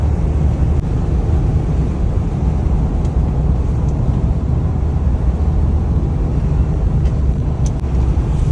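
Steady roaring wind rushing through an open sunroof of a car cruising on a scenic road in the Dominican Republic, loud and continuous with low rumble throughout and no talking.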